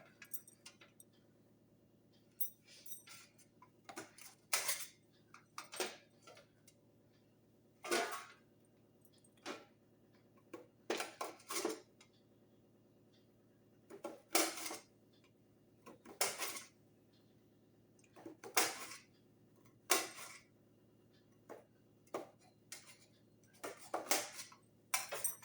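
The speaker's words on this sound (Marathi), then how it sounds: "हे पहा असं बारीक चिरायचं आहे पातळ कारलं आपल्याला" A knife thinly slices bitter gourd (karela) on a cutting surface, producing faint clusters of crisp taps every few seconds over a steady low hum.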